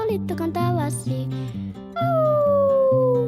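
A sung voice imitates a long wolf howl in a Spanish children's song about animal sounds, a rising then slowly falling wail over a bright, steady musical backing.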